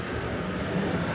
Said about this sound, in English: Plane is going over, as I say that.